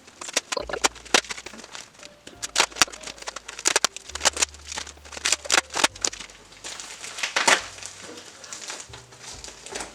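A tape-packed parcel is being unwrapped, with close crinkling, tearing and rustling in irregular bursts over a low, intermittent background hum.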